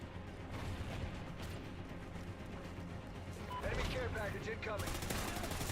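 Rapid automatic gunfire rattles in a Call of Duty: Ghosts multiplayer match on PS3, a continuous fairly quiet barrage with a heavier burst near the end, and a voice talking over it.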